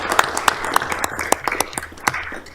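Hand clapping from people gathered at a city council meeting in Colorado Springs, a short burst of sharp, irregular claps filling the room with a faint murmur underneath.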